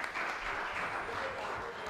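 Audience applause at a talent competition, a continuous wash of crowd clapping at low-to-moderate level throughout, with no distinct breaks.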